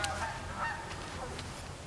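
Geese honk loudly and continuously at close range outdoors, a dense overlapping chorus of nasal calls filling the whole moment with no pauses.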